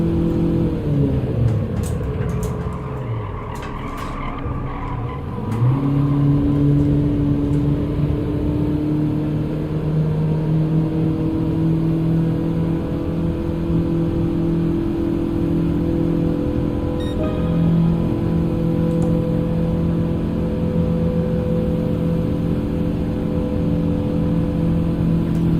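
A Toyota Prius G '09 race car in Gran Turismo 7 at Laguna Seca drones steadily for the whole stretch, its engine tone dipping briefly before settling into a sustained, even hum with little variation.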